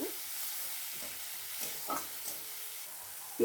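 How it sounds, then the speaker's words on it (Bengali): Onion and chopped tomato frying in a pan for a Bombay duck curry, with a soft, steady sizzle and a few faint stirring scrapes, quiet and close without talk. "ভালো করে ভেজে নেব।"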